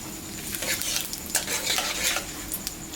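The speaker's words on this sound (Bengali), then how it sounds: "আমি এখন সর্ষের তেল দিলাম, জিরা, শুকনো লঙ্কা, সম্বরা দিয়ে দিলাম," Cumin, dried red chillies and bay leaves sizzle in hot mustard oil in a kadai while being stirred, a close, steady crackling fry with scraping spoon clicks and no talking.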